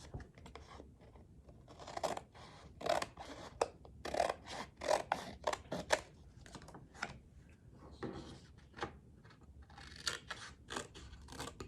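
Scissors snip the corners of a Graphic 45 Nature Notebook base album in a series of close, crisp cuts with pauses between them, with some rustling of paper and no talking.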